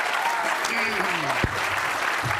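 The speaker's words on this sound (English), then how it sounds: "Please give her a big round of applause." Audience applause at a live startup accelerator showcase, a broad sustained wash of clapping from a crowd with some voices and gliding tones mixed in, steady and moderately loud throughout.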